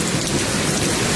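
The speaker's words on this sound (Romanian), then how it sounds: "În comuna Lopătare a plouat torențial, iar ploaia a fost însoțită de grindină de mari dimensiuni." Torrential rain with large hail pours down in Lopătari, a dense, loud and continuous rush of water with no pauses and no voices.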